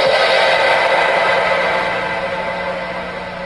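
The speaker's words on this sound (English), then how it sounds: "take the sound of an ordinary cymbal" Ordinary cymbal recorded on tape, a bright hissing wash that starts at full strength and slowly decays over a few seconds, close and loud, with no talking.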